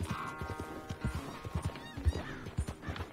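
Horse hooves clip-clop at a steady riding rhythm in Red Dead Redemption 2, close and fairly loud, with a few heavier thuds and a faint whinny-like tone behind the hoofbeats.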